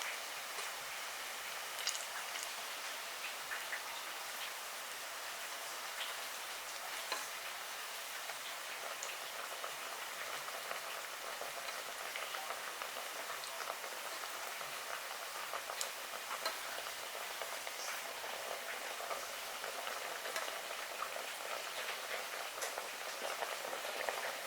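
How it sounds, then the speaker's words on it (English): Tostone cups, fried plantain slices, sizzling in hot oil in a pan for a Puerto Rican crab salad dish: a steady, dense crackle and hiss with scattered pops, moderately loud and continuous, with no talking. "You're going to fry it for about a minute or two on each side."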